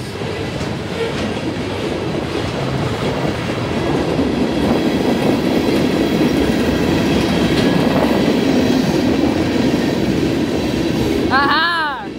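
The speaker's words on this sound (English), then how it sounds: "That's the end of NS 10K with 1800 the Yellow Man ACC leading." Norfolk Southern freight train with box cars rolling past on the Conemaugh line in Creighton, Pennsylvania: a loud, steady rumble and clatter of wheels on rails, with a brief squeal near the end.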